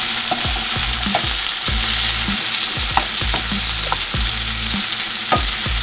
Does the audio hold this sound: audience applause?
no